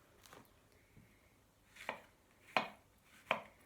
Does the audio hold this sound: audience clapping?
no